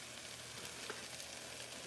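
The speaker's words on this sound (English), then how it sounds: "I hear the sizzle" Taco ingredients frying in a pan give a steady, low crackling sizzle that runs the whole time with no voices over it, fairly faint and close by.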